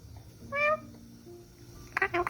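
A cat gives a short, faint meow, then a couple more quick mews after a pause, in an otherwise quiet room.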